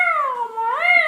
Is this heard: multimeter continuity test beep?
no